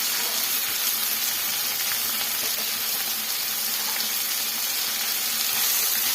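Tamarind and turmeric fry in oil in a pan, giving a steady, loud hissing sizzle close up that holds evenly throughout with no voices.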